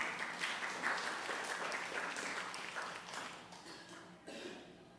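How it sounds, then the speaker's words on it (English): An audience at a storytelling night applauds in a steady wash of clapping, moderately distant and tapering off near the end. "so applause for that"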